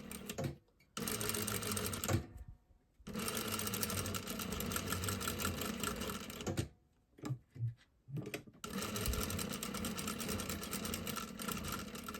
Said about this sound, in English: Okay, so we're just going to stitch straight across the bottom.